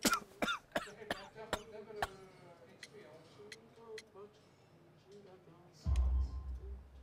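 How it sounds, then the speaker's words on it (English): Several sharp video game coughs in quick succession, close and fairly loud, followed by quieter throat sounds and a low rumble near the end. "You have a severe cough."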